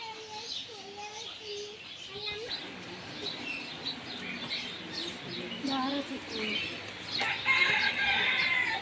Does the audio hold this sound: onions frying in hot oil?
no